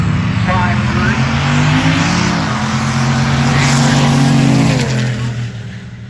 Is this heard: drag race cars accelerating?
yes